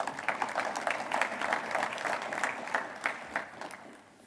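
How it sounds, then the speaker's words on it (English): Audience at a West Virginia soccer Hall of Fame awards ceremony giving themselves a round of applause, moderately quiet, dense clapping that gradually thins and fades out. "So please give yourself a round of applause again."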